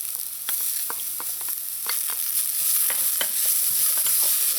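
Chopped peppers and scallions stirred in a hot pan with a steady close sizzle, plus a few light spoon scrapes and clicks scattered through.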